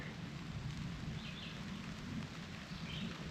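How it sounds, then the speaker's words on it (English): Thunder rumbles low and steady in the background outdoors near a river in the Northwoods on a partly sunny day, a continuous soft roar with faint rain-like hiss and no talk. "Pretty crazy, the thunder in the background, and it's like kind of sunny."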